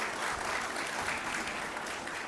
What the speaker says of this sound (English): we want you to give another round of applause for the excellence of Dancing Africa